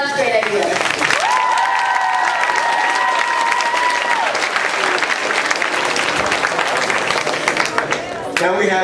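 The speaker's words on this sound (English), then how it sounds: "Let's get a round of applause for the amazing seniors who had such great ideas." Audience at a school awards ceremony applauding the seniors, dense sustained clapping from a crowd, with a cheer or whistle-like tone rising above it early on.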